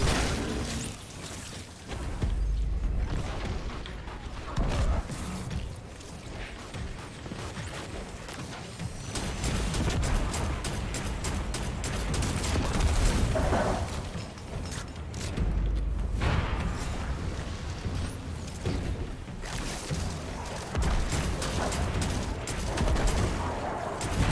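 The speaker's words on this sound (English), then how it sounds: "missile barrage!" A missile barrage in the video game Destiny 2 sends a dense, continuous volley of explosions and rapid gunfire-like blasts, loud and sustained throughout with mechanical clatter mixed in.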